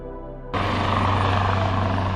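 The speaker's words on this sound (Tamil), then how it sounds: "ஸோ இங்கே பக்கத்தில் இருந்து ஒரு ஹெலிகாப்டர் வந்து இப்போ லான்ச் ஆகுது." A helicopter lifts off nearby at the Expo 2020 Kingdom of Bahrain pavilion. A loud, steady rotor roar kicks in abruptly and fills the scene.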